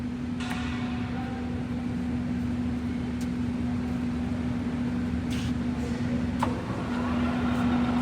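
An Induma universal milling machine from Italy, with a 1250 by 255 mm table, runs its spindle at 960 RPM, giving a steady mechanical hum with a constant tonal whine and faint occasional clicks.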